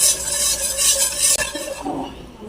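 Flour being stirred into melted butter in a pan for gravy produces a soft hiss and sizzle with scraping stir strokes and a brief utensil knock, heard up close.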